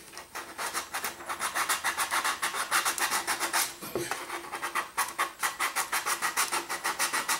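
Sandpaper scuffing a model rocket part to roughen it for super glue: fast, even back-and-forth rasping strokes, close and steady, with one short break midway.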